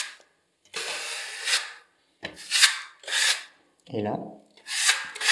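A small filling knife smooths wall filler around an electrical socket, giving repeated short scraping rasps with brief pauses between strokes, close and fairly quiet; someone speaks briefly partway through.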